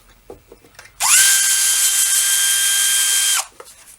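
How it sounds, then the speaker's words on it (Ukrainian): A tool unscrews the intake pipe of an overheated Revolt petrol brush cutter, giving one steady, high-pitched whirring burst of about two seconds, close and loud, between faint handling clicks. "Мусимо відкрутити патрубок, бо інакше я його не відірву від того."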